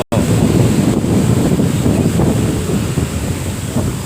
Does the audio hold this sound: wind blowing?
yes